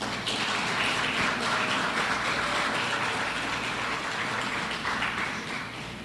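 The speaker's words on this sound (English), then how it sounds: "Ladies and gentlemen, can we give a round of applause to the members of staff of GHRS" Applause at a Government Human Resource Services Centre company Christmas dinner, a sustained dense round of clapping from a crowd across the whole stretch, loud and steady and tapering slightly near the end, with no talk over it.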